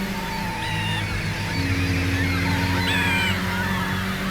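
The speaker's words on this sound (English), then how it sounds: "You can hear birds and crows singing in the cities too." Crows caw a few times over steady city ambience in the video game Metropolis Street Racer, the calls moderate and somewhat distant against a continuous background hum.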